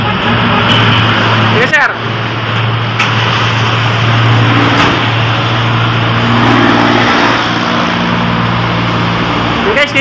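A 2004 Honda City's engine runs steadily at close range, a continuous motor drone throughout, with a brief spoken exchange over it.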